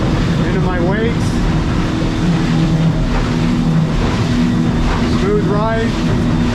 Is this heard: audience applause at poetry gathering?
no